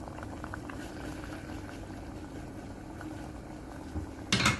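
A pot of meat and prune tagine stew bubbling at a steady boil, soft gurgling throughout, ending with a brief louder clatter near the end.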